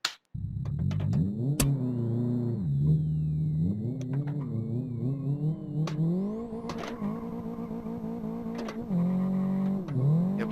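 A Golf's engine revs and climbs through gears in the Live for Speed racing game, played on a Logitech G29 wheel, with repeated rising and dropping pitch sweeps, sharp clicks and occasional tire squeal, loud and continuous without talk.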